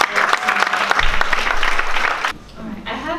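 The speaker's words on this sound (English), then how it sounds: "Can we please just give a huge round of applause?" An audience at a women's summit conference session bursts into loud, dense applause of many hands clapping, which cuts off abruptly near the end, leaving a faint voice.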